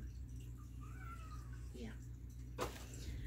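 A pet cat gives a faint, drawn-out rising meow in a quiet room, followed by a short sharp knock, distant and soft over a low steady hum.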